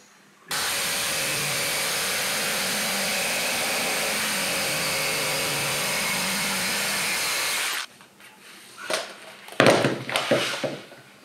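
A saw with a fine metal-cutting blade rips through plywood for a boat's scarf joint, a loud steady whining roar lasting about seven seconds. It stops abruptly and a few scattered knocks and handling thumps follow.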